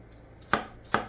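Two crisp, close knife strikes against a cutting board while chopping onion, spaced about half a second apart, with no talking.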